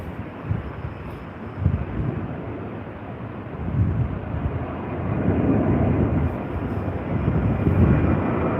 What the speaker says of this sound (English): We have a Qantas Dreamliner in from New York via Auckland, landing very shortly on 34 right.